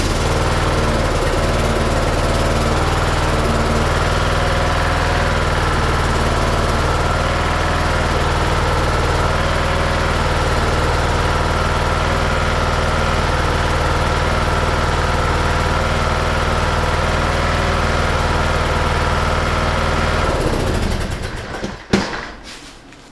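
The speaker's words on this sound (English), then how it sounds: "let me start my mower up real quick" A 2008 TroyBilt Pony riding lawn mower engine runs loud and close in a steady, continuous drone for about twenty seconds before cutting out into a few knocks and silence.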